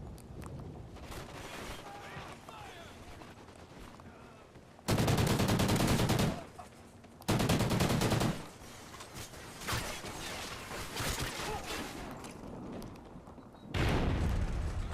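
Sniper rifle fire in Call of Duty on PS3, heard as several loud, dense blasts with sharp mechanical clatter. They come in bursts around quieter game ambience and faint distant action.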